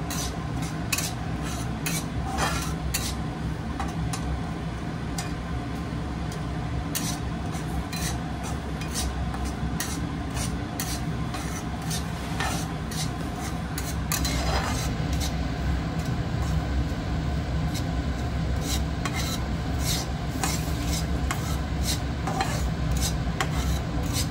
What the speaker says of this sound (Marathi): पीठ भाजून सगळं पीठ करून घ्यायचं।